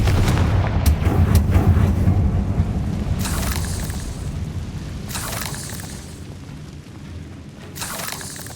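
Confringo blasting-spell explosions in the Hogwarts Legacy video game: heavy rumbling booms with several sharp bursts, loud at first, then fading to a lower roar between blasts.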